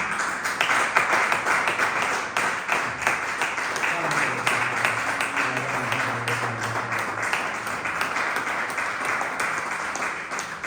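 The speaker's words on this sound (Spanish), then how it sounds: "Dale un fuerte aplauso a Cristo Jesús" Congregation at a Spanish-language church service clapping loudly and continuously, a dense even wash of applause with a faint voice and some low tones underneath.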